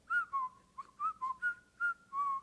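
A person whistles the Colonel Bogey March tune, a short run of clear, close melodic notes in a quick bouncing rhythm, alone with no talking.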